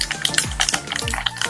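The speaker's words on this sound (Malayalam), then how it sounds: "കടുക് പൊട്ടി തുടങ്ങിയിട്ടുണ്ട്." Mustard seeds crackle and pop in hot oil for a Kerala sadya masala curry with koorka and thuvara, giving rapid, irregular close-up spluttering with no voices.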